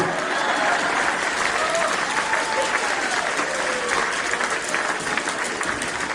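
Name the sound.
audience applause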